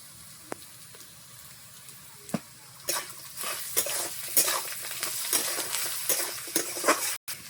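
Chopped onion and potato fry in a pan, with a soft sizzle that swells into a busy, crackling sizzle broken by the scrapes of stirring.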